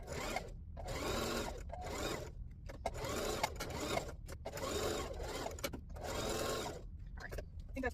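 Sewing machine stitching fabric for a jumbo pillowcase, a steady whirring run broken by short pauses, close and continuous over about eight seconds.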